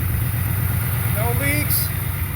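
A 2020 Ford Mustang 5.0 V8 runs steadily after an oil change, a loud, even low rumble close by, with a few faint higher tones rising over it.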